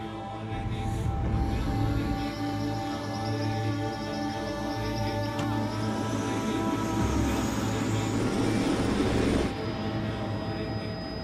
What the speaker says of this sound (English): We're flying along in the helicopter